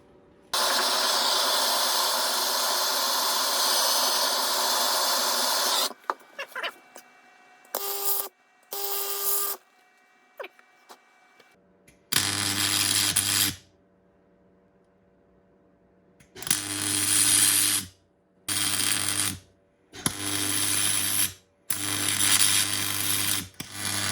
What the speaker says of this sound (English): I'm having to preheat the piece with the gun first and then weld on afterwards